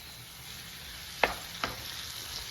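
Tomatoes added to sautéed onions in a pan for a Kerala-style tomato rice dish, a soft steady sizzle broken by two sharp clattering scrapes of a spoon against the pan, close and quiet, no voices.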